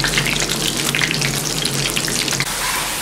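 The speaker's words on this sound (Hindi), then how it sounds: "बाद में फ्लेम बढ़ा दिया था हाई फ्लेम पे हमने इनको फ्राई किए" Medu vada frying in hot oil on a high flame, a dense continuous sizzle with crackling bubbles, loud and close throughout.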